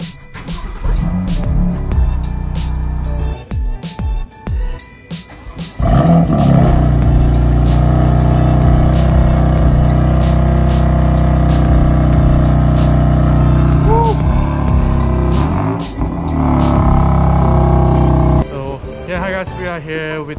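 A BMW car engine starting for the first time: a few cranking sounds, then the engine catches and settles into a loud, steady idle with a brief rev, as people talk nearby.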